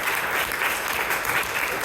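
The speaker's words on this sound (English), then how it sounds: "Give these people a round of applause" A town audience claps steadily at a Merriam mayor and city council candidate forum, a dense, even round of applause sustained at constant loudness with no voices on top.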